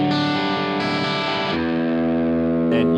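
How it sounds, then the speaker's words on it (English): Electric guitar played through an overdrive pedal with the clean signal blended in, a few sustained, moderately gritty chords ringing loud and close, with no voices. "now it's a little less gainy because we're blending in some of the clean guitar sound"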